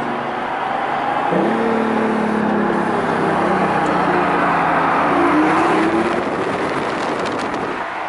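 A BMW i8 accelerating, heard from inside as a loud, steady electric-hybrid whir and engine hum whose pitch climbs after a moment and holds strong, with no talk.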